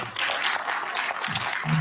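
An audience at a St. Canisius Alumni Association event breaks into a brief, fairly loud round of applause, a steady wash of many hands clapping at once.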